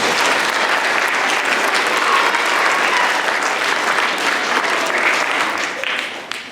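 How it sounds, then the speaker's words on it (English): An audience at an elementary school D.A.R.E. graduation breaks into sustained applause, a thick, even roar of many hands clapping that tapers slightly toward the end. "let's give them a round of applause as well"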